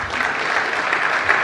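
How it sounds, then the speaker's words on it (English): Conference audience applauding a speed debate speaker, dense steady clapping throughout at an even level with no talk over it. "Give Peter Gutman a round of applause."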